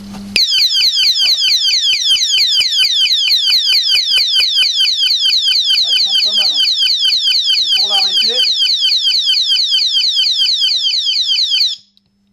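A motorcycle disc lock alarm shrieks loudly and piercingly, continuously for about twelve seconds in a rapid warbling pulse, then cuts off abruptly; brief speech is heard faintly underneath.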